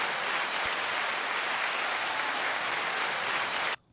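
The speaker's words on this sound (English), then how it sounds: "we're going to go ahead and give him a little round of applause" A steady, dense round of applause plays for a podcast guest, even and moderately loud for almost four seconds before cutting off abruptly.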